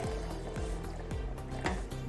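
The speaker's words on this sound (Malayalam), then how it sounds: "തണുത്ത വെള്ളം കുറച്ച് ഒഴിച്ചു കൊടുക്കുകയാണേ." Cold water pours into blended watermelon for juice, a close gurgling fill with repeated bubbling glugs that swoop downward in pitch as the liquid settles.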